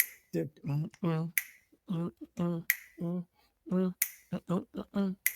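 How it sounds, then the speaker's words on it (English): An audience snaps their fingers in place of clapping during a live chat about cooking, culture and creativity, with crisp scattered snaps mixed in among voices that carry on steadily throughout. "I don't know if the hand snaps the same"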